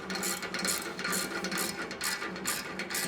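Clamp being tightened onto the hydraulic cylinder of a two-post vehicle hoist, giving a loud, close ratcheting click-and-grind that repeats in quick rhythmic strokes for a few seconds.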